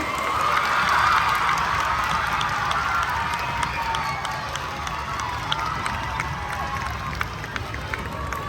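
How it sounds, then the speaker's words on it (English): A school assembly audience applauds and cheers for kindergartners moving up, dense clapping with scattered whoops and children's shouts, loudest early and then tapering slightly while continuing. "Can you please give a round of applause for these little guys?"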